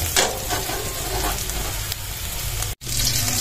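Onion and garlic sizzle steadily in a hot pan for a Filipino corned beef sauté, a close, continuous frying crackle with a brief cut near the end.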